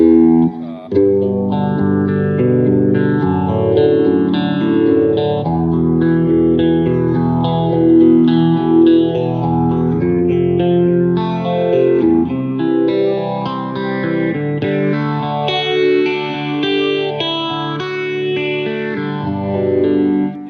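A Les Paul electric guitar strums sustained chords with a thick, chorused, slightly driven classic rock rhythm tone, ringing steadily without any voices.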